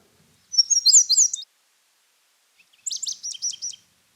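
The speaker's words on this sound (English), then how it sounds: "They have a lovely little song that's often produced with each note given in pairs." A small bird sings in a regenerating clear cut, two short bursts of high, quick paired notes separated by a pause, clear and near against silence.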